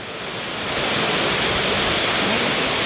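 Rain falls heavily and steadily, a dense, even roar of broadband noise that builds over the first second and then holds constant.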